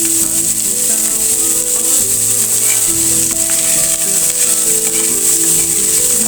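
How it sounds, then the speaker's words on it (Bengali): Peanuts frying with chopped garlic, onion and a little turmeric in a pan, a loud steady sizzle with occasional stirring scrapes and clinks close by. "ভালো করে ভেজে নেব।"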